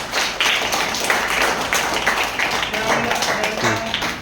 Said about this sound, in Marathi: टाळ्या वाजवा सगळ्यांनी.